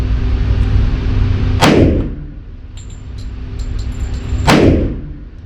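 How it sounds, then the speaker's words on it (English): Two loud, close gunshots from a Ruger SR45 pistol, spaced about three seconds apart, each a sharp crack with a short decaying tail over steady outdoor background noise. "I just fired the gun"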